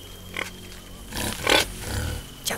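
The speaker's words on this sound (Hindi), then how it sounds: "जंगली सुअर।" A wild boar gives several grunts nearby, short rough bursts spaced irregularly over a low background hum.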